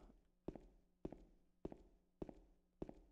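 Footsteps in the video game Silent Hill 2, five evenly spaced loud thuds each with a soft scuffing tail, walking at a steady pace in a quiet space.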